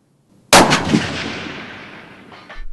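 A single long-range rifle shot at a Texas pistol and rifle academy range: one sharp, loud crack followed by a long rolling echo that fades, with a faint distant report near the end.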